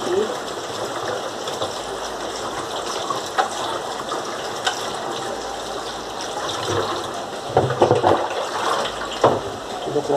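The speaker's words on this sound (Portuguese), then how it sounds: "eu vou colocar água ali" Running tap water pours steadily while sururu mussels are rinsed in a bowl, a broad continuous wash with a few clinks and splashes near the end; no talk over it.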